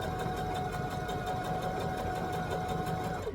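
Sewing machine stitching a lap quilt, running fast and steady with a continuous whirring hum and rapid needle pulses, close and alone.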